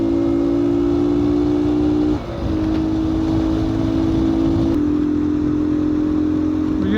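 A motorcycle on a road trip to Mangla Dam, Mirpur, held at full throttle with a loud sustained engine drone that steps up in pitch as gears change, plus constant wind roar.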